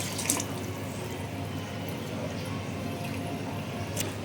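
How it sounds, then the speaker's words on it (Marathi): Water poured from a bowl onto rice in a pot while making vegetable pulao, a steady, moderately loud wash of liquid running without a break, with a couple of faint clinks. "त्याच वाटीने आम्ही पाणी टाकतो इथे."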